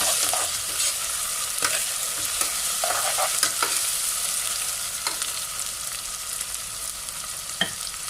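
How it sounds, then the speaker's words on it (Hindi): Constant hissing sizzle of ginger-garlic paste frying in a hot pan, punctuated by repeated scraping and tapping of a utensil stirring the food, close and fairly loud. "अभी इसमें अदरक लहसुन का पेस्ट मिक्स करेंगे।"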